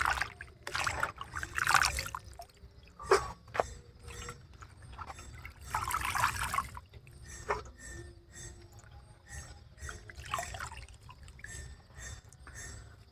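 Spinach is washed in a vessel of water with intermittent splashes, swishes and trickles. The louder bursts of handling come between quieter drips.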